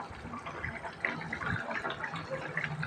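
A prawn, potato and pointed gourd curry broth bubbling in a pot, a soft, irregular burble of liquid at moderate level with small pops and splashes throughout.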